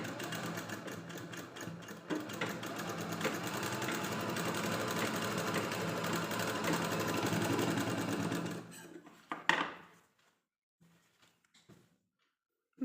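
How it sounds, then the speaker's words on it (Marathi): A sewing machine top-stitches along a blouse back neckline in a fast, steady mechanical whir, running for several seconds before stopping, followed by a few faint clicks and near silence. "याच्यावरती पूर्ण आणखीन एक टिप मारून घ्यायची।"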